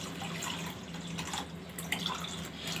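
Water running into a bowl to soak washed urad dal for an Indian breakfast, a soft steady trickle and splash heard close up, fairly quiet.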